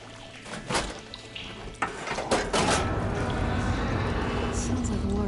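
In Horizon Forbidden West, machinery switches a water flow, heard as a few clunks followed by a rising, steady rush of running water that continues to the end at moderate level.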